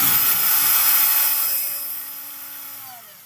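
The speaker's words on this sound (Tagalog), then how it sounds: "Gamit lang tayo ng cordless drill para mabilis mabaklas" A 21V cordless drill backs screws out, a loud close whine with a high motor tone that spins down gradually toward the end.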